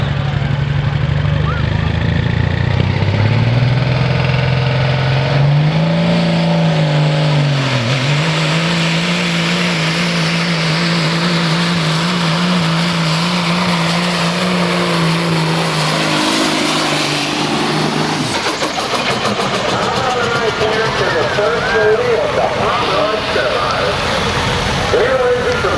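Hot rod semi truck Red Hot Rollin at a fairground truck event, a loud engine roaring and revving up in long sustained pulls, with an announcer talking over it.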